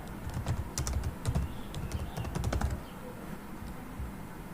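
Commands being typed on a computer keyboard while setting up a Raspberry Pi 4 voice assistant: a quick, uneven clatter of close key presses that thins out and stops partway through, leaving quiet room tone.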